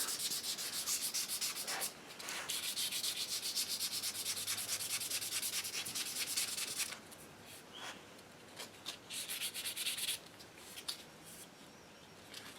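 Someone hand-sands the wooden stock of an HW30 air rifle, making close, steady rasping strokes that break off briefly a few times before resuming.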